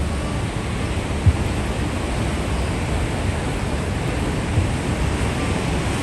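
A waterfall pours beneath a steep bridge in a steady, broad rushing roar that fills the whole clip without pause, close and fairly loud.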